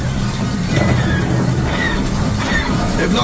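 A train on the Millennium Falcon: Smugglers Run ride at Disneyland's Star Wars: Galaxy's Edge, a loud, steady rumbling roar with faint squealing and clattering, no clear speech.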